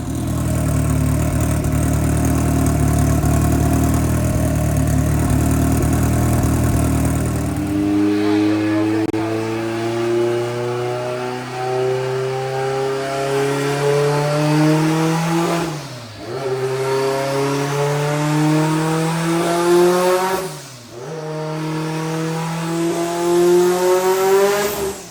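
A drag racing car idles roughly at a drag strip, then revs hard, its engine pitch climbing in long sweeps and dropping sharply at gear changes, loud and close throughout.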